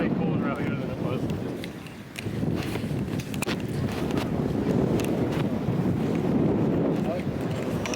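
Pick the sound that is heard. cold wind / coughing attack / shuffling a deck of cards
cold wind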